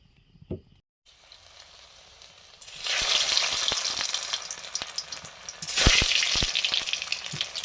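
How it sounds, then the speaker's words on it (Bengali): Large potatoes fry in mustard oil, a loud, steady sizzle that starts after a few quiet seconds and swells again later, with a brief clatter near the beginning. "সুন্দর সর্ষের তেল আলুগুলো ভাজবো প্রথমে"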